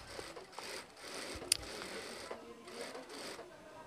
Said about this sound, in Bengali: এরপর আরেকটা মুড়ানি দিয়ে আরেকটা সেলাই দিব